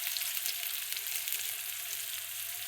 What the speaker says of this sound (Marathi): मस्त तेलात फ्राय करायचं बघा ते.